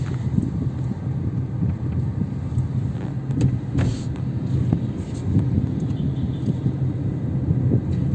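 A Tata Tigor EV electric car driving along with its Ziptron drivetrain, a steady low rumble of road and tyre noise with wind buffeting the microphone, continuous and fairly loud throughout, no speech.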